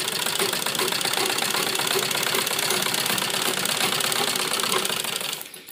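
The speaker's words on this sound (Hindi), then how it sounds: "अब बिल्कुल किनारे किनारे पर हम सिलाई लगाएंगे।" A sewing machine stitches along the edge of fabric with piping in a fast, continuous mechanical rattle at close range, running steadily for several seconds before stopping abruptly near the end.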